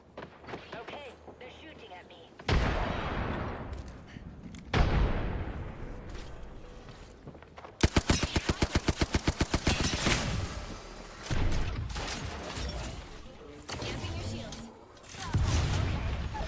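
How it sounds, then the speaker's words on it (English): Enemy gunfire in a video game: a fast, loud burst of rapid shots rattling off in a steady stream, with heavier thumping impacts before and after, mixed with game noise and someone talking. "Making contact with enemy. Okay, they're shooting at me."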